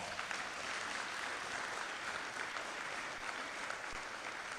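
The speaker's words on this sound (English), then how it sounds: "Can you give yourselves a round of applause for that?" A graduating class of 2024 students applauds themselves, a dense, steady wash of many hands clapping that holds evenly at full strength throughout with no voices standing out.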